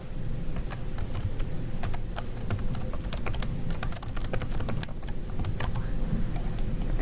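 Rapid, continuous typing on a computer keyboard, with many quick key clicks over a steady low background hum.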